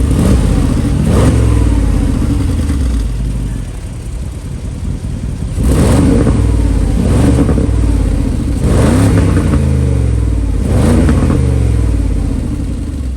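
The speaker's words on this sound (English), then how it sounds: "Sports exhaust." A 2021 Mercedes-Benz G 550 with AMG sports exhaust revs up loudly several times, each burst rising and falling in a deep, rumbling roar over a steady idle, close by with no talking.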